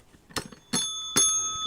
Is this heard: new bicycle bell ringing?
yes